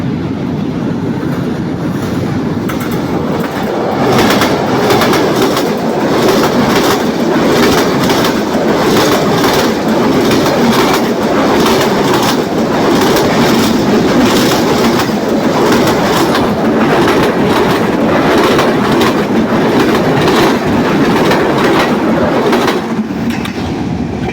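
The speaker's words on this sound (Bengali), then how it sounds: "এই রকম মেঘের মধ্য দিয়ে ট্রেনগুলো যাবে" A train runs past on a railway line with a steady, loud rumble and rhythmic clickety-clack of wheels over rail joints, continuous throughout with no talking.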